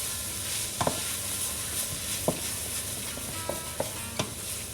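Mutton curry being stirred in a pan with onion, garlic and ginger paste, Sri Lankan Batticaloa style: a few sharp scrapes and knocks of the spoon against the pan over a steady, quiet sizzle.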